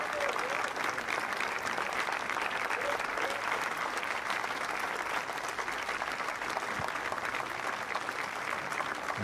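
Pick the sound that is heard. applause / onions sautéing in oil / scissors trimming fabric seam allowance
applause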